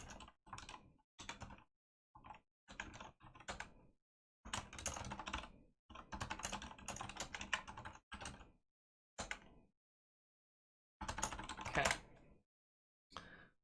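Fast bursts of computer keyboard typing while coding a Python and SQLite puzzle solution, close and clear, with short pauses between runs of keystrokes and no talking.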